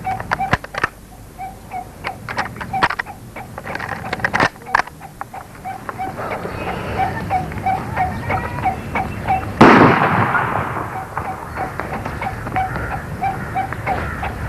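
Sharp gunshots ring out in a Pashto drama scene: a few scattered loud cracks, with a heavier blast near the end, over a steady tonal backdrop and muffled voices.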